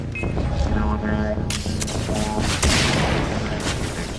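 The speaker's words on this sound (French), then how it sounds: "je vais prendre mon petit fusil de snipe" A sniper rifle fires in the video game Far Cry 3 Blood Dragon: a loud, sudden burst breaks through dense, booming game sound, then a second heavy hit follows shortly after amid constant background noise.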